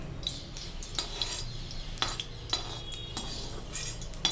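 Dates being sautéed in ghee in a large kadhai, with close metallic scraping and clinking of a spoon against the pan in irregular strokes over a faint sizzle.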